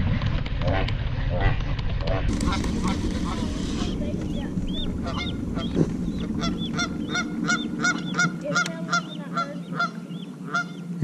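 Geese honk again and again at a wildlife spot near the water, loud and steady throughout, with a low engine-like drone underneath and people talking at times.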